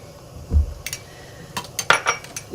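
A spoon knocks and scrapes against a pot while stirring a Persian greens and meat stew, giving a few close metallic clinks and taps over a quiet background.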